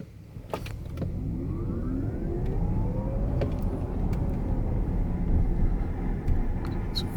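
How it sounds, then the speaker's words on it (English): A 2019 Audi e-tron electric car accelerates hard in sport mode, giving a steady, rising electric whine over continuous road and tyre rumble, heard from inside the cabin with no talk. "So I'll accelerate the vehicle and show you what that's like."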